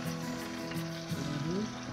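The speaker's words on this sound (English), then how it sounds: "Oh, we got the sizzle now." Venison backstrap sizzling and frying in a pan, a steady close crackling hiss that holds throughout with slight swells, no talking over it.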